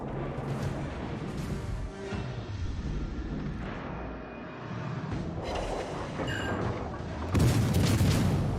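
Battleship main guns boom in heavy salvos inside World of Warships Legends, with deep blasts rolling over a constant churning game soundscape and a louder burst near the end.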